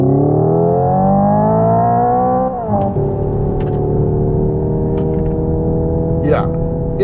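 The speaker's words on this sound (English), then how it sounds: "we are basically emulating a dual clutch transmission right now" A 2025 Hyundai IONIQ 5N electric car plays a synthetic engine tone that rises steadily, drops sharply at a simulated dual-clutch gearshift, then holds a lower, steady drone, heard close from inside the cabin.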